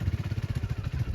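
A motorcycle engine idles close by with a steady low, chugging pulse throughout the short stretch, with no talking.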